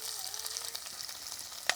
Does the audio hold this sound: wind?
no